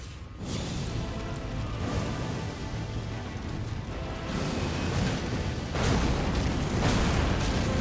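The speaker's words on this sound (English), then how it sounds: "The mandatory flashbang." A booming blast in Elden Ring rolls into a sustained roaring rumble, with a second loud surge later as the noise swells again, loud and unbroken throughout.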